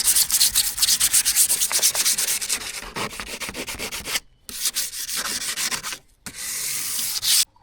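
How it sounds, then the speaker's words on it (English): Sandpaper scrubs a VW Crafter camper van's exterior door handle before painting, a close, loud rasping in quick back-and-forth strokes, broken by two brief pauses before resuming. "Just going to give it a little sand now, just so the paint sticks a bit better."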